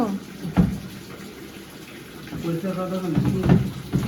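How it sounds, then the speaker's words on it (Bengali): Water pours and splashes as an air cooler is emptied, a continuous watery rush with a few louder sloshing bursts, while voices can be heard in the background. "কি কুলারটা জলগুলো সব বের করে দিলে কেন?"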